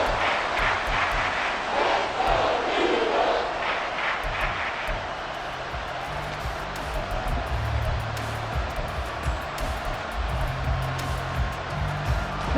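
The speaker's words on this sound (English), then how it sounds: "This crowd turning up the decibel level." Football stadium crowd roaring during an NFL game on a third-and-long play, a broad, sustained wash of noise swelling early and holding steady throughout.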